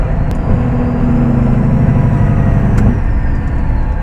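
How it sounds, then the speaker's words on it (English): A Caterpillar C15 truck engine with a new torsional damper, running steady and loud up close, its engine retarder braking as a sustained low drone with a strong tonal hum holding from about half a second to three seconds, then easing. "Hey, my retarder's working now too."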